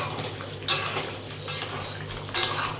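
A spoon scrapes and clanks against a pan three times while a potato and bori curry with green chillies is stirred, short metallic strikes over a quiet kitchen background.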